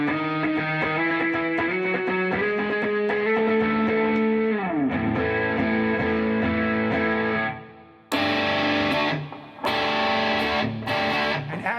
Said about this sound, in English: let's add the classic tube to this vintage tube sound.